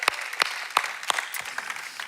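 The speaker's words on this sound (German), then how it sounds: "Darum lass uns Gott nochmal einen Applaus geben." Applause at a Christian conference, sounding as several distinct, sharp claps spaced roughly a third of a second apart over a soft background, fairly close and bright.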